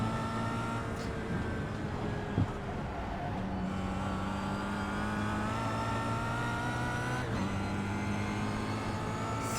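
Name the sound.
Kia Optima race car engine in video game iRacing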